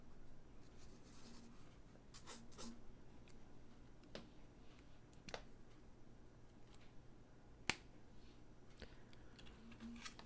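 A thick pen drawing on sketchbook paper, close and quiet, with soft scratchy strokes and scattered small taps and clicks in an irregular rhythm, without talking.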